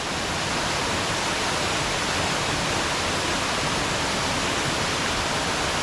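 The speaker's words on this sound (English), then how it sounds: "That is Aber Waterfalls." Aber Waterfalls in Wales roars as a loud, dense, unbroken rush of falling water heard up close, with no voices.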